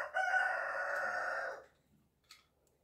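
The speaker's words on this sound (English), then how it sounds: "Everybody needs a rooster on their build site." A rooster crows once on a shipping container tiny home build site, a loud, close call lasting about a second and a half, followed by a brief faint chirp and near silence.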